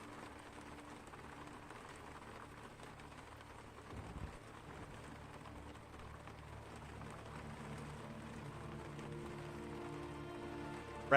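Soft, steady rain patters on a surface over a low background hum, with a single dull thump partway through; nobody speaks.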